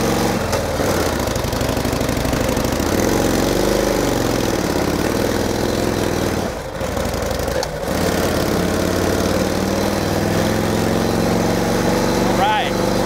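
A 1949 Harley-Davidson Panhead enduro racer motorcycle engine labors steadily uphill, a continuous loud rumble with brief dips in power, heard up close from the rider's position, with a voice talking over it.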